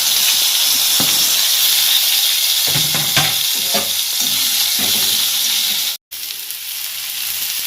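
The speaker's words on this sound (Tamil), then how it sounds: "இப்போ வாழைக்காவை வறுத்துருவோம்." Loud, continuous sizzling of raw banana pieces frying in hot oil, with a few stirring clinks, briefly cut out near the end.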